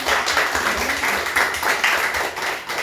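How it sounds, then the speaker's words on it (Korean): A church congregation at a Korean revival meeting claps together, a steady mass of hand claps with rhythmic pulses sustained throughout, fairly loud and close, with no speech over it. "박수 한번 하시죠."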